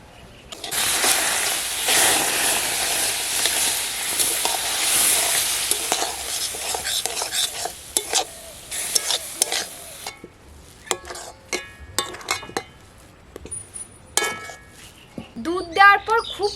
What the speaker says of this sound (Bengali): এখন আমি এর মধ্যে দুধটাকে দিয়ে দেবো।